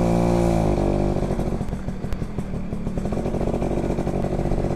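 A red-repainted Yamaha V80 motorcycle engine runs steadily and loud, its throbbing putter rising in pitch at first and then holding a fast, rough rhythm close by, with no talk over it.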